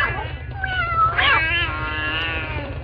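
A wild cat meows in a dramatized ghost story, one drawn-out, close, wavering yowl rising and falling over a low steady background hum.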